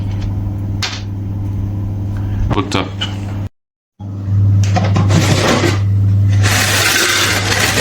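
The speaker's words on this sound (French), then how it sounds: "On va pouvoir mettre ça dans un mixeur et le réduire en poudre." Blender grinding hardened nougat into powder, loud close whirring and rattling bursts with a brief stop midway, starting and restarting, while a person speaks briefly.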